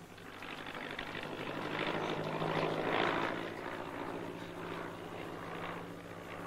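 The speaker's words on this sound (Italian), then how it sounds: "Là, un aereo." A propeller aircraft drones steadily overhead, its engine swelling louder toward the middle and then easing off slightly, with no voices.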